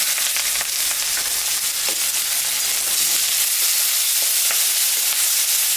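Onion sizzling and crackling in hot oil with cumin seeds and dried red chillies, a steady close frying hiss with occasional sharp pops, no voices.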